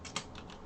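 A few quick keystrokes on a computer keyboard click close and quiet, one sharper tap standing out among softer presses.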